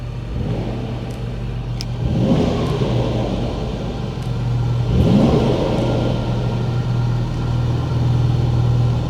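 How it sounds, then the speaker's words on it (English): A Porsche 911 Sport Classic engine idles with a steady low rumble, then revs up twice in strong rising bursts, with crackling pops from the exhaust as the revs fall. "as you get more temperature in the motor, you get more pops and burbles"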